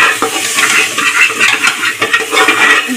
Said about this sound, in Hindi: अब इसमें हम पानी डालते हैं